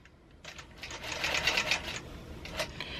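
A longarm quilting machine stitches briefly to tie off the bobbin thread, giving a close, whirring mechanical run that rises and eases over a few seconds.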